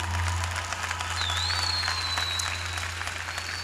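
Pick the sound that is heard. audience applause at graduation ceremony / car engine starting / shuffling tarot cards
audience applause at graduation ceremony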